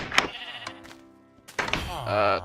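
Sheep bleating in a Minecraft game world, short synthetic bleats sounding close and fairly loud, with a longer bleat near the end, alongside game sounds and a faint thud.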